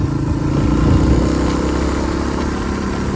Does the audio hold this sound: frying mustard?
no